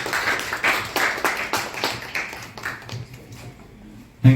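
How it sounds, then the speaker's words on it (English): An audience at an in-house training session claps to welcome a speaker, with uneven bursts of clapping that thin out toward the end, followed by a brief low thump. "please give him a huge round of applause and welcome"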